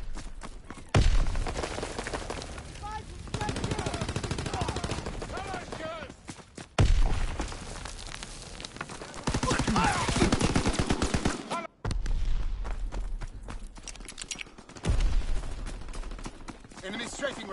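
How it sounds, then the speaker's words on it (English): Machine-gun fire from an enemy aircraft strafing run in Call of Duty WWII, loud dense bursts of gunfire coming in several waves, with a short gap before each new burst. "Enemy strafing run inbound."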